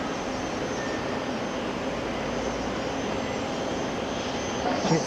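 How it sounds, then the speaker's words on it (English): A Jetstar airliner arriving from Queenstown at Auckland International Airport makes a faint, steady jet rumble, swelling slightly toward the end, while someone speaks quietly. "Jetstar coming in from Queenstown, 292."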